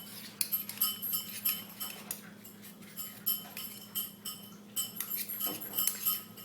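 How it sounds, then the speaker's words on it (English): A sauce mixture for pulled pork braising liquid is stirred hard in a bowl to break up clumps, giving steady clinks and scrapes of a utensil against the container, close and fairly quiet, with no talking. "I'm just going to mix this up really good, make sure there's no clumps in it"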